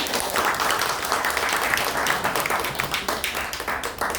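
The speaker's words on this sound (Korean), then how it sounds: "박수로 받아주시면 고맙습니다." An audience at a party founding rally in Daegu claps steadily, with dense, continuous applause from a sizeable indoor crowd that holds at a constant level.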